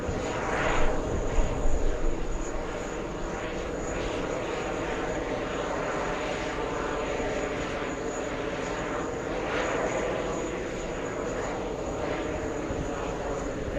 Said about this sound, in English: Royal Jordanian fighting the crosswind.